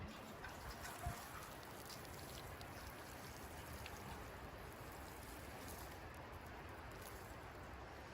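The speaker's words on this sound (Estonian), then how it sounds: "Vesi voolab kõik siia auku." Water trickles and flows steadily into a hole in a garden bed, a continuous soft watery wash with no talk.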